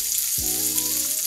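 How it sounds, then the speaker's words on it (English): Chopped garlic drops into a pan where pieces of food are already frying, setting off a steady, loud hiss and crackle of sautéing that continues without a break, and a low humming tone runs underneath it. "as these start to saute and fry up, I'm going to go ahead and add the garlic"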